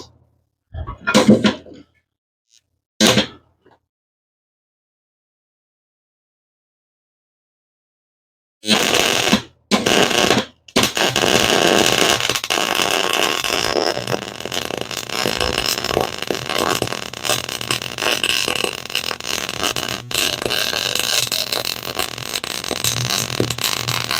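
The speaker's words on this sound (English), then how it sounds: "I should change from pulling my welds to pushing my welds." MIG welding on a roadster with a pushed weld: two short crackling tack bursts, a pause, then a few brief starts before a long steady buzzing, sputtering bead runs loud and close to the end.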